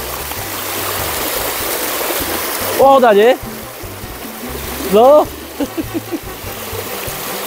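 A bicycle rolls through floodwater on a flooded bike path in Liptovský Mikuláš, giving a steady close rush and swish of water, while someone speaks briefly twice over it.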